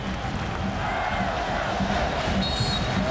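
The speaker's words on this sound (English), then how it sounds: "Allow the crowd to react." A stadium crowd of LA Galaxy fans at the MLS Cup Final against Houston Dynamo roars in a steady, distant wash of cheering and chanting that fills the whole moment.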